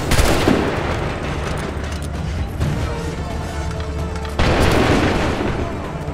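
Dense musket volleys and booming gunfire fill a battle scene in Assassin's Creed 3, a continuous loud roar of shots and blasts with a heavier burst near the end.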